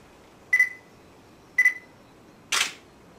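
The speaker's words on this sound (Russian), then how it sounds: "Все равно как-то фотографирую." A camera shutter fires twice while photographing a magnolia branch, each click paired with a short electronic beep, followed by a third louder click, all crisp and close in a quiet room.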